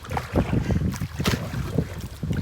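Gusty wind buffets the microphone as a canoe paddles through lily pads on a lake, with close rustling, splashing paddle strokes and rough blustery noise throughout.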